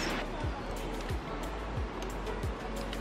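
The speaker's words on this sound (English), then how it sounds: "You can hear the waves of the valley and the stream." A mountain stream flowing through a valley in Seoraksan National Park, Korea, a steady broadband rush of water heard up close, with a few low thumps recurring roughly every half second.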